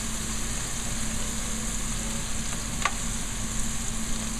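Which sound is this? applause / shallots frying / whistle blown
shallots frying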